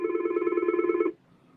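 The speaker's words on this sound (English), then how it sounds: "Better answer that phone." A telephone rings once, a steady buzzing trill about a second long that stops abruptly, fairly faint and alone with no voices.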